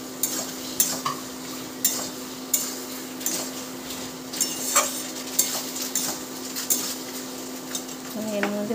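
Paneer curry being stirred and fried in a pan, with a spoon scraping and tapping against the metal in a steady rhythm over a low sizzle, close and moderately loud.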